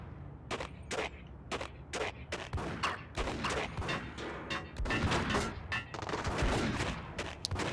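Gunfire in the Max Payne video game on Xbox, a string of sharp, loud shots cracking out in irregular bursts, some overlapping into rapid clusters against a busy background.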